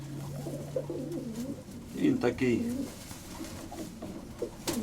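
A pet pigeon, a young male, coos in low throaty rolling phrases close by while someone talks over it.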